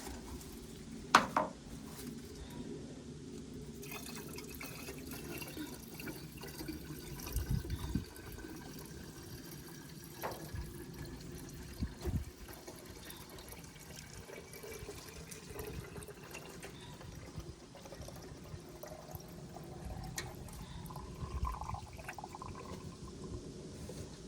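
Water poured into the cooling system of a 1969 Buick Special Deluxe engine, a steady close splashing and trickling fill with occasional clunks and knocks, without talk.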